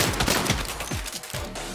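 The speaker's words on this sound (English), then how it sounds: "Oh, fireworks!" Fireworks in the video game Saints Row go off as a dense, rapid crackling barrage of sharp pops and bangs with a noisy background, loud and continuous throughout.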